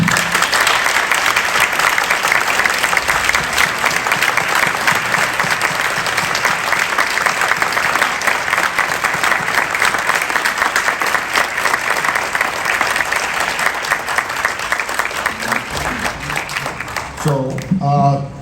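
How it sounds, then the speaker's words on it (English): Audience at a public forum for police chief candidates applauding, sustained dense clapping from a sizable crowd lasting well over fifteen seconds, tapering near the end as a voice begins. "I just want the audience to please give a round of applause for all the candidates."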